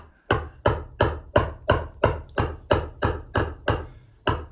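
Hammer striking a metal vessel during chasing, about twelve loud, sharp, ringing blows in a steady, even rhythm roughly three per second, each decaying briefly before the next.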